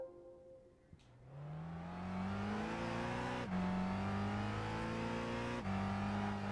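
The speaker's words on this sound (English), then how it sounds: "Love the sound of that engine." A race car engine at Silverstone revs up through the gears, each climbing whine cut by a sharp shift before rising again, loud and close with no talking.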